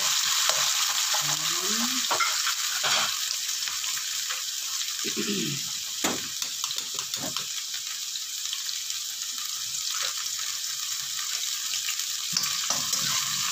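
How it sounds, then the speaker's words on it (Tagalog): Garlic and onion sautéing in a pan, a constant loud hiss of frying with occasional utensil clatters and scrapes, and a voice speaking briefly over the sizzle. "mag-uumpisa na tayo maggisa ng bawang sibuyas guys"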